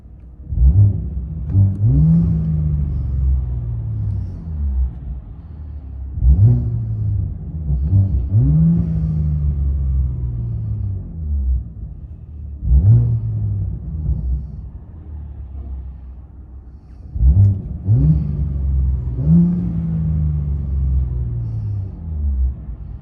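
A 2017 Mercedes C43 AMG with a 3.0L twin-turbo V6, downpipes and Wesgate cat-back exhaust, heard from inside the cabin: four repeated rev-ups rising and falling in a deep, booming rumble, each followed by a settling idle.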